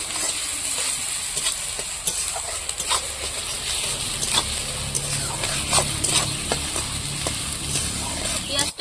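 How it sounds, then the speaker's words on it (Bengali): Chopped onions hit hot oil in a pan for a katla fish curry, giving a steady, loud sizzle and crackle throughout with occasional stirring scrapes, and a faint low hum beneath. "এখন তেলের মধ্যে দিয়ে দেবো পেঁয়াজ কুচি। পেঁয়াজটা সুন্দর করে একটু ভেজে নেব।"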